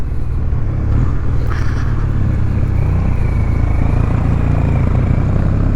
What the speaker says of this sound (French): j'aime beaucoup ce bruit de twin, hein, avec les pots saucissons